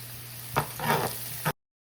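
Ginger and garlic hit a hot pot for a salmon rundown sauce and jambalaya, giving a short burst of sizzling with a couple of stirring scrapes before the sound cuts off abruptly.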